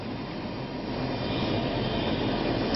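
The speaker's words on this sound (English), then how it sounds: "It's just kind of loud here with the helicopter now warming up." A dense, steady roar of a helicopter warming up nearby at Niagara Falls, loud and unbroken throughout.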